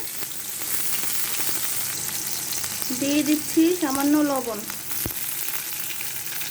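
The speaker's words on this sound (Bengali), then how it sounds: "তেলটা গরম হয়ে গিয়েছে, এখন আমি দিয়ে দিচ্ছি পেঁয়াজ কুচি, দিয়ে দিচ্ছি মরিচ কুচি" Chopped onion and green chilli fry in hot cooking oil for a fish curry, a loud continuous sizzle running throughout as someone speaks briefly over it, followed by a sharp tap.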